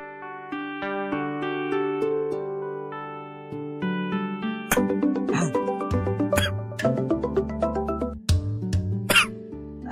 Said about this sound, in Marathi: काय रे शिंकतोयस?